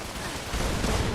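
Dense gunfire and explosions rumble together in a Fallout 76 game fight, forming a continuous loud, booming barrage that swells toward the end of the short burst.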